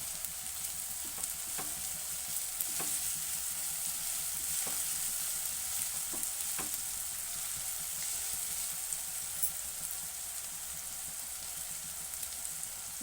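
Ginger garlic paste fries in a pan with a continuous close sizzle and crackle, punctuated by occasional soft stirring taps, with no voices.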